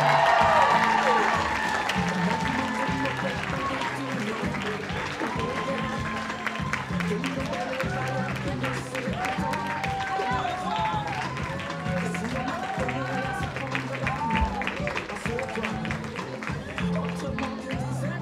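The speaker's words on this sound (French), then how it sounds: "Un grand applaudissement pour le dragon chinois." An audience at an eco fashion show claps in a steady, dense round of applause lasting many seconds, with faint music and a voice over the clapping at the start.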